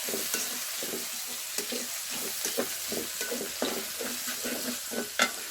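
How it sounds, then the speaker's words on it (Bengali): Garlic frying in oil for Bangladeshi village-style chepa shutki vuna, a constant close sizzle punctuated by rhythmic scrapes and taps of a spatula stirring the pan. "রসুনটা নেড়ে লাল করে নেওয়া হচ্ছে।"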